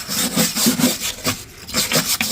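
Dirt being scraped off the underside of a classic Volkswagen, heard as a steady run of close, harsh rasping strokes in quick back-and-forth rhythm, with no talking over them.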